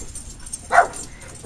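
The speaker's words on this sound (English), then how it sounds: "my doggies are barking" Dogs bark outdoors at a distance, one short clear bark standing out midway and another starting at the very end, over a quiet background with no talk.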